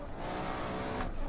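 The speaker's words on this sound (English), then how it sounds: "Really long, dirty Forza e-brake grab." A car in the racing game Assetto Corsa slides under a long e-brake skid, giving a steady, fairly faint tire hiss and engine rumble that lasts just over a second.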